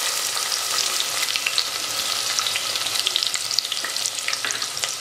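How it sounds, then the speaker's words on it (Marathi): A finely chopped medium onion frying in a pan with a large black cardamom, heading toward a country rooster curry, gives a steady, close, dense sizzle that runs unbroken with small crackling pops throughout. "कांदा छान गोल्डन ब्राऊन वर कलर येईपर्यंत फ्राय करून घ्यायचा आहे."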